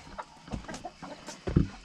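Backyard chickens settle for the night with scattered clucks and a few louder squawks near the end, close and clear, no voices over them.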